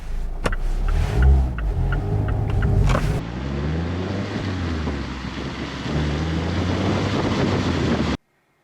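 Mazda MX-5 sports car pulling away and driving off, its engine tone rising through the gears from inside the cabin, with steady wind and road noise underneath.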